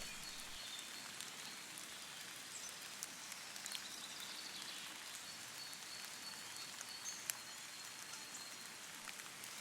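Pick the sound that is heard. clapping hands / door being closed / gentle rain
gentle rain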